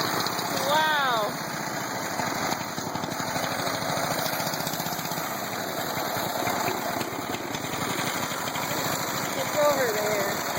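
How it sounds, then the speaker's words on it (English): A lawn mower engine idles steadily throughout, a constant close hum with a faint whine, while people talk over it. "That lawnmower."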